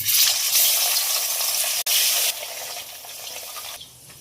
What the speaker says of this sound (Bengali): আর এখানে মাছ ভাজার জন্য কড়াই বসিয়ে দিয়েছি